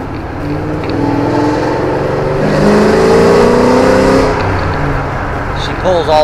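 Inside a 2007 Ford Mustang GT fitted with aftermarket cams, the engine revs hard and climbs steadily in pitch through one long loud pull, then eases off, with a voice briefly heard at the end.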